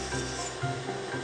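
Hand sanding of a carved wooden fish makes repeated rough rubbing strokes, several close scratchy passes in an uneven rhythm with no voices.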